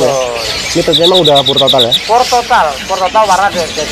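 An imported panca warna songbird sings a quick run of high, bright warbling trills and chirps nearby while people talk over it in Indonesian.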